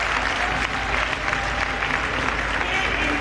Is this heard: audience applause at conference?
yes